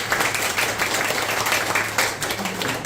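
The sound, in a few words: audience applause for the presenters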